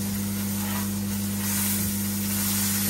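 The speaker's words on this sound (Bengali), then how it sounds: "এই যে এখন মাছটা ভেজে নিতে আসছি" Rohu fish sizzling and spattering in hot oil in a pan, a steady close hiss with a constant low hum beneath, no talking.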